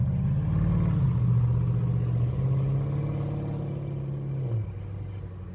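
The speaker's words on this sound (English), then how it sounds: "Camaro sounds pretty good" A Camaro's engine runs steadily close by, a deep low rumble with a rising tone partway through that drops off near the end, with no talking over it.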